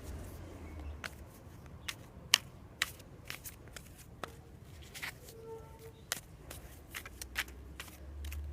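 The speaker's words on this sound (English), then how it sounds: "Getting crazy with the shuffling." Tarot cards being shuffled by hand during a reading, quick papery riffles and soft slaps in irregular bursts, close and quiet, with no talking.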